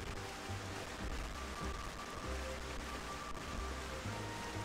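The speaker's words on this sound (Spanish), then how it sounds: "se puede acabar la lluvia" Soft, steady rain hiss from the video game Xenoblade Chronicles fills the background, faint and continuous, with occasional low rumbles underneath and no talking.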